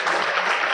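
Audience applause at a university spring convocation, a short dense wash of many hands clapping together, steady and fairly loud with no voices over it.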